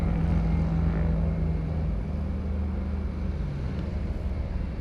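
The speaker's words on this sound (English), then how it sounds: "that flight that just landed was gonna be GPD 1111" A Tradewind Aviation propeller plane coming in to land at San Juan's Luis Muñoz Marín airport, heard as a steady, continuous low engine drone and rumble that holds at a moderate distance throughout.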